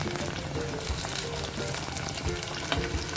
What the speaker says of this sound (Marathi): त्यात आपण टोमॅटो घालायचा आणि टोमॅटो सुद्धा चांगला परतून घ्यायचा आहे